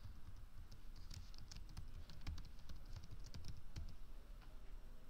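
Fingers type on a computer keyboard at a desk, a close, quiet run of irregular key clicks over faint room hiss, with no voice.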